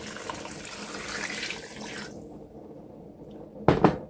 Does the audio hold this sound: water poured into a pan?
yes